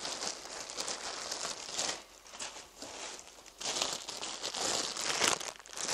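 Crinkling and rustling plastic packets from a roof-window insulation kit, close and continuous, with crisp crackles and a few tearing bursts as the bags are handled; no talk.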